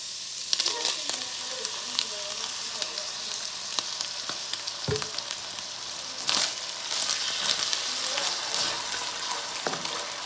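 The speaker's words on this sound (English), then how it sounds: "Now the meat is brown, I'm just adding the sauce in." Browned meat sizzles in a pan after Korean-style barbecue sauce is added, a steady close frying hiss punctuated by a few sharp pops and stirring scrapes.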